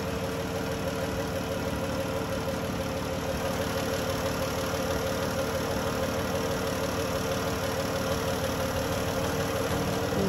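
A 2011 Dodge Journey's 3.6 V6 idles smoothly and steadily up close, a continuous even hum with no ticking from the rebuilt lifters and rockers.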